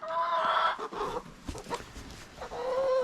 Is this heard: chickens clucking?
yes